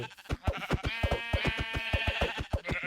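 Repeated sheep bleats from the video game Minecraft, a steady run of close, loud, harmonic baas one after another with no gaps of silence.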